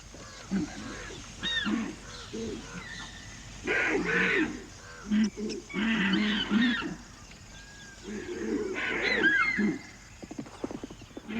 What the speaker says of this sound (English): The swamp deer know the tiger is around and fill the air with alarm calls.